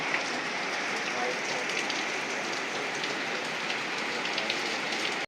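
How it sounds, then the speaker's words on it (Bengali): Steady rain pours down at Cox's Bazar, a dense, even hiss of drops striking surfaces close by, continuous and unbroken with no voices. "চেক আউটের সময় বৃষ্টি।"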